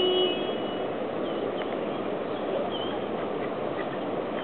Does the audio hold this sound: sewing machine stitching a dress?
no